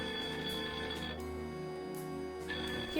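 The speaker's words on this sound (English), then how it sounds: "Sorry about the phone, we're not going to answer it." An indoor telephone rings steadily for about three seconds, with a sustained electronic tone over a low background hum and no one speaking.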